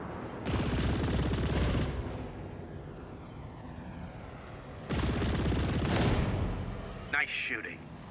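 Gunfire in the sci-fi video game Chorus, two dense bursts of rapid shots with a rumbling lull between them, a brief electronic chirp at the end.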